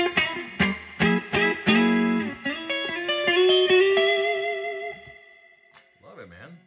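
Electric guitar on single-coil pickup positions through a 2002 Fender Hot Rod Deluxe with plenty of reverb: a series of clean strummed chords and ringing notes that fade away, followed by someone talking.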